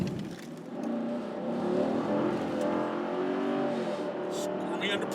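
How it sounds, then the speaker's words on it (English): 2016 sixth-generation Chevrolet Camaro SS with its V8 engine accelerating, a steady rising engine drone heard from inside the car, with a voice talking over it. "Ooh, I love the way that V8 sounds"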